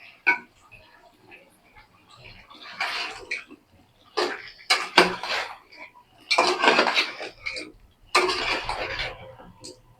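Chicken and potatoes stir-fried in a pot for a Bengali chicken curry with chana dal, with loud bursts of metal spoon scraping and clattering against the pot, intermittent, close, with quiet gaps between.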